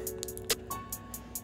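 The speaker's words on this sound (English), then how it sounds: "Then I added a snare on top of that in between the little simple trill" A trap beat built in FL Studio plays quietly, a simple rapid hi-hat trill ticking steadily while a single crisp snare hit lands between the hats.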